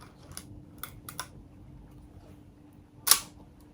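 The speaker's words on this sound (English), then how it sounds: "That is a really quiet shutter sound." A Fed 4 film camera shutter fires once, a short, quiet click near the end, with a few fainter mechanical ticks earlier over low background hum.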